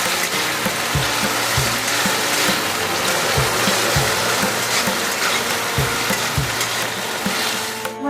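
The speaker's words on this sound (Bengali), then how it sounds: "বেগুনগুলো আমি একটু ভালো করে ভেজে নেব।" Pieces of eggplant fry vigorously in a pan, a dense, loud sizzle with regular scraping knocks as they are stirred and turned.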